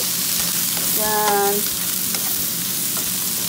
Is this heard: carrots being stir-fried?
yes